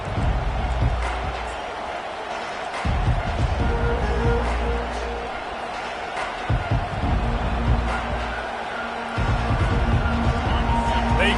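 A college football crowd at Michigan versus Colorado, cheering and roaring loudly through the stadium as a steady wash of noise, with a commentator talking over it.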